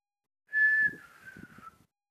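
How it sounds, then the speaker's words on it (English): A person whistles one clear, steady tone held for about half a second, then a softer, slightly lower note trailing off, close and alone in quiet. "Can you whistle back to me?"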